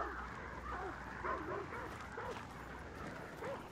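Dogs in the video game Hunt: Showdown yelping and whimpering, a series of short, faint barks spread across the moment, with a little quiet background noise.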